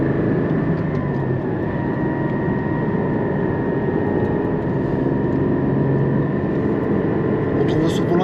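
A Porsche 718 GT4 Clubsport with a 4.0 engine drones steadily while driving, a loud, continuous engine hum with faint rising tones throughout, heard from inside the car.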